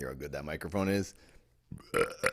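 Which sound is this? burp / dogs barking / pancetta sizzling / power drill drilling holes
burp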